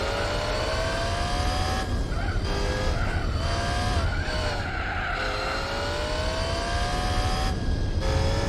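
A race car in the Gran Turismo 4 video game, its engine whining loudly and rising through the gears, with tire squeal and skidding as it brakes and corners, the pitch climbing again after each drop.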